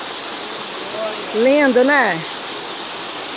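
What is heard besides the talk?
waterfall, Cachoeira Gonzaga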